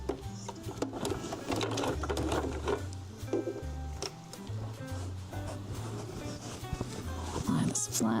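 A home sewing machine runs a straight stitch in quick repeated bursts of rapid mechanical chatter, with pauses between runs, while a person talks over it.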